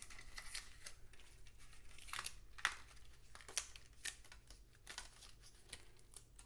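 Tape is peeled off slowly and carefully, giving faint, quiet crinkling and several short tearing rips spread across the moment.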